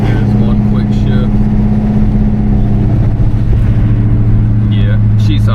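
A 1972 Oldsmobile Cutlass engine rumbles steadily at close range with a deep exhaust note, rising slightly in pitch as it revs, while someone talks over it.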